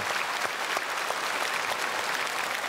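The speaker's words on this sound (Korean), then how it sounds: "우리 찬양대에게도 박수하겠습니다." A church congregation at a Sunday service applauds the choir, a dense, steady wash of many hands clapping together throughout, with no voices standing out.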